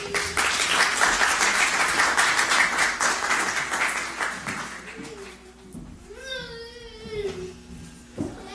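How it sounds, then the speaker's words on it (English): Audience applause at a children's-support press conference fills the first half, loud and dense, then thins out as voices and a child's crying rise and fall. "Can we just give him a round of applause one more time, please, for that amazing news?"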